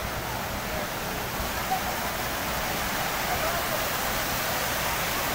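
Near Tungareshwar in Vasai, a river flows through green countryside as a steady broadband rush of water, loud and unbroken, with no distinct voices over it.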